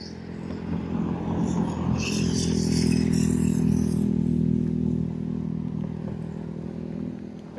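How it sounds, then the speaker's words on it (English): A dirt bike passes on the road, its engine drone swelling to a peak mid-clip and fading away, with a low rumble and some rattling. "There's a guy on a dirt bike, looks like."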